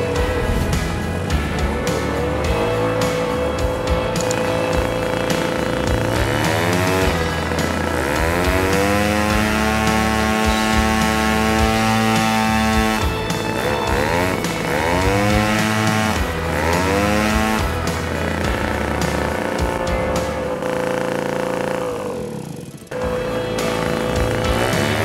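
A small two-stroke model airplane engine buzzes loudly and steadily, its pitch rising and falling as it revs, then abruptly cuts out near the end.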